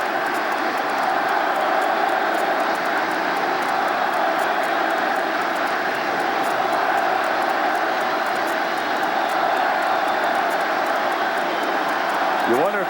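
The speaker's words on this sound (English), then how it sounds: "You wonder if the crowd noise isn't a little overwhelming right now, even for Mariano Duncan." A packed crowd at a 1996 Yankees–Rangers playoff baseball game gives a continuous loud roar, unbroken and intense, with a broadcast announcer talking over it.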